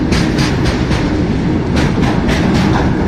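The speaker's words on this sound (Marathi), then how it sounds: "टँकरची ट्रेन आहे टँकर घेऊन चाललेली आहे पूर्ण तेलाचे टँकर आहे त्याच्यामध्ये" A long freight train of oil tanker cars rolls past close by, a loud, steady rumble with rhythmic clickety-clack of wheels over rail joints throughout.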